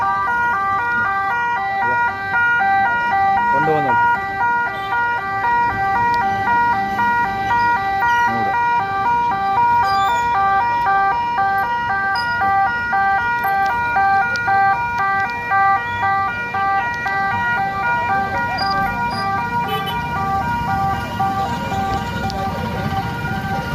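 An ambulance siren wails loudly and continuously in a repeating pattern at the scene of a road accident in Thalappady, Kasaragod, with road traffic noise underneath.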